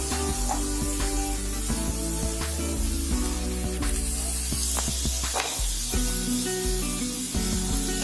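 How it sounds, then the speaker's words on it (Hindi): Chopped onions sauté in a pan, giving a continuous loud sizzle and hiss close up, steady throughout with faint stirring scrapes and no voices. "प्याज को हल्के से हम भून लेंगे, हल्का सा गोल्डन ब्राउन होने तक"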